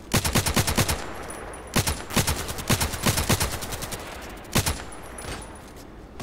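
Gunfire in the shooter game Contract Wars comes in rapid bursts of sharp, loud shots, several volleys separated by short pauses.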